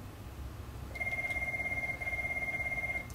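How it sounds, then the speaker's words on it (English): A telephone starts ringing about a second in, a fairly faint, continuous electronic trilling ring that pulses rapidly and keeps going to the end, with no one talking. "I'll get that phone soon."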